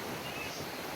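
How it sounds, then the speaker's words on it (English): Ocean waves crash hard on the beach at Bimini, a steady broadband roar of surf filling the whole moment, loud and continuous with no distinct breaks. "The waves are crashing pretty hard, so you may not even be able to hear me."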